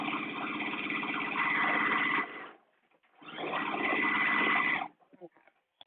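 A sewing machine stitches a blouse in two close bursts of steady mechanical whirring, pausing briefly between runs, with faint clicks after each stop and no talk.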